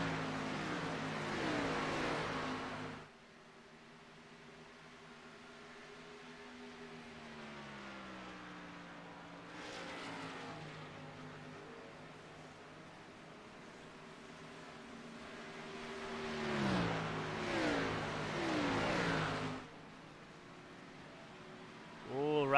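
Race car engines drone from a racing video game at Kansas Speedway, a sustained whine that shifts pitch as cars pass, with brief louder swells and bursts of rushing noise at the start and later.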